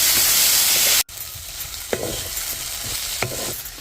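Tomatoes and green chillies sautéing in a pan for spicy pasta, a steady broadband sizzle broken by a sharp cut near one second, then continuing with occasional scrapes and stirring knocks.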